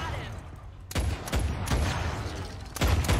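Several sharp pistol shots from Fortnite Save the World ring out at uneven intervals, loud bursts with short decays over a steady background hum of game ambience.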